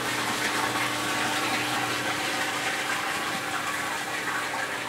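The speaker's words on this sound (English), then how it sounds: "Now we got our ODI pumping in. Let it fill up to the 100-gallon mark." RODI fresh water pumping into a 100-gallon mixing tank for a 500-gallon coral reef aquarium: a steady, loud, close rush of pouring, splashing water that holds constant throughout with no talk.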